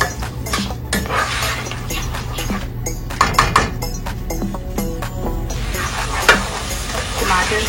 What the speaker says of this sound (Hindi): अच्छे से हम टमाटर और प्याज के लिए जो बनाया है हमने मसाला, उसको अच्छे से भून रहे हैं।